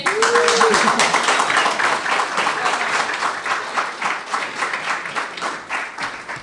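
Audience applause at a mayoral event kicking off a technology initiative, a dense burst of many hands clapping that starts loud and slowly thins, with a brief tonal sweep near the start.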